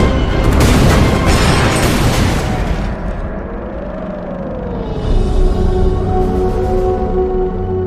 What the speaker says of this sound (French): Le King George V, des obus de 356. Pilonnage après pilonnage.